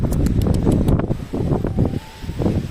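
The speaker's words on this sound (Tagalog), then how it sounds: "Sobrang lakas na hangin." Strong winter wind in France buffets the microphone in loud, steady gusts, with a low roar and rustling throughout and no one speaking.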